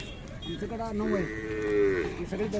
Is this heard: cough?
no